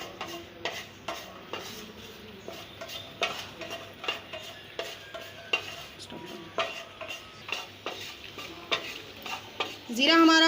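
Cumin seeds and chillies fry in oil and are stirred in a pan, with a quiet sizzle under repeated close spoon scrapes and taps in an irregular rhythm, ending in a louder burst of sizzling.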